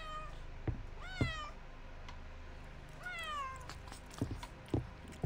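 A cat in the indie horror game Her Apartment meows twice in clear, rising-falling calls about two seconds apart, with soft thumps and faint game ambience in between.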